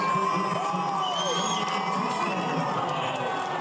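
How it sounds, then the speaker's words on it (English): A large crowd cheers and whoops in a sustained ovation for a President-elect greeting them from a balcony, a loud, dense roar of voices with scattered shouts on top. "to greet the crowd from a balcony, he received a big ovation"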